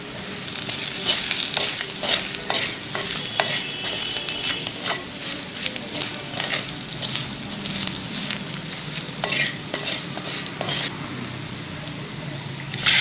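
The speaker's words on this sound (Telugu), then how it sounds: "కారం, ధనియాల పొడి మరియు ఉప్పు వేసుకొని 1 నిమిషం ఫ్రై చేసుకోవాలి." Prawns frying in a pan with chili powder, coriander powder and salt, giving a steady close sizzle with scattered crackles and stirring scrapes throughout, no talk.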